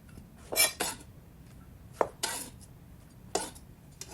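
Chopped tomatoes and red onion go into a bowl in a few quick, separate clinks and scrapes of utensil against dish, fairly close and quiet with pauses between.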